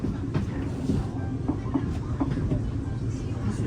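A train in China rumbles past nearby with a low, continuous roar and faint rhythmic clatter of wheels on track.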